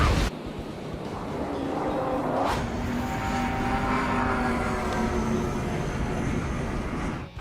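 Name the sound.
jet aircraft flying low from video game Ace Combat 7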